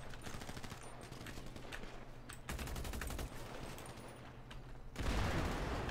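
Gunfire fills a FiveM roleplay game shootout, dense rapid bursts of automatic fire cracking repeatedly at close range, with a louder heavier volley near the end and no talk.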